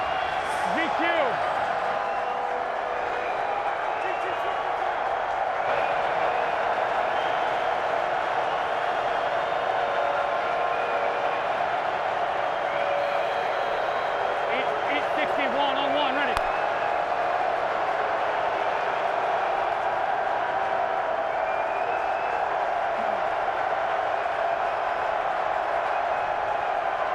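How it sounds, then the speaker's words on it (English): A stadium crowd at an XFL football game roars steadily for the whole stretch in a dense, continuous wall of cheering, with a commentator's voice talking over it. "as you can hear, this crowd is rocking already"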